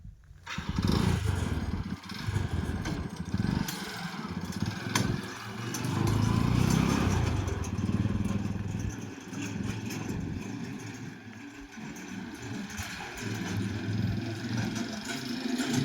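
A small farm load-carrier vehicle engine chugs as it is driven around, a steady, moderately loud putter that swells and eases with throttle changes throughout, no speech heard.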